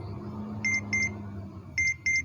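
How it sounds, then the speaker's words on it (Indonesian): The dashboard alarm buzzer of a Komatsu HD785 dump truck gives intermittent high-pitched double beeps in two pairs separated by a pause. A steady low engine hum runs underneath. "alarm buzzer akan berbunyi terputus-putus"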